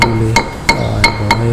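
Five sharp hammer blows strike bumps on a plastered wall in a fairly steady rhythm, close and loud.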